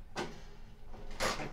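A kerosene heater's door is opened, giving two short separate clunks, the second louder and longer, close by in a quiet room.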